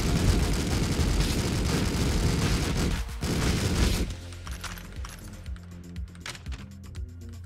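Dense, continuous automatic gunfire from a machine gun in the video game Streets of Rogue fills the first four seconds, then gives way to quieter scattered game sounds and faint clicks over a low musical hum.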